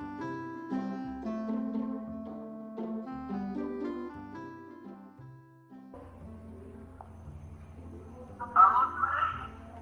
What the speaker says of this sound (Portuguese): Vamos tentar ligar mais uma vez aqui.